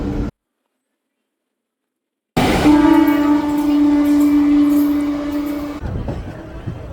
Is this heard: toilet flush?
no